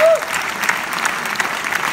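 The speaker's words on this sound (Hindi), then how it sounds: "मैं आपकी जोरदार तालियां चाहता हूं" An audience at a business stage event bursts into loud, sustained applause, a thick continuous wash of clapping that stays even and close, with a brief voice cutting out at the very start.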